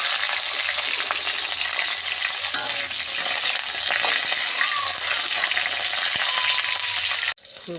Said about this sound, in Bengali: ফুলকপিগুলো ভাজা হয়ে গেছে, তুলে নিচ্ছি।